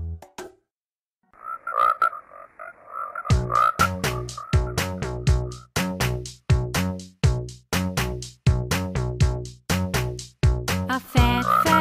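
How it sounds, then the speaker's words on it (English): A cartoonish frog croak repeats in quick rhythmic bursts as part of a children's English song about a fat frog jumping in a pond, the croaks forming a steady beat with no voice over them. "A fat, fat frog jumps in the pond."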